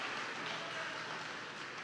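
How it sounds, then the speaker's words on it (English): A graduation crowd at Glen Cove High School applauds the concert choir, a steady, fairly faint wash of clapping with no talk over it. "Let's give our concert choir a big round of applause"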